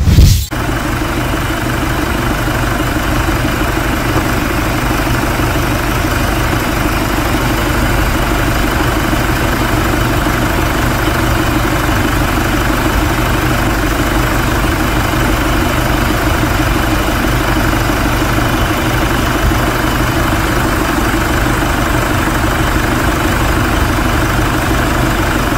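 A Chevrolet S10 engine idles, fitted with a different alternator pulley, running as a steady, loud, slightly knocking drone that continues without a break for about 25 seconds after a brief start.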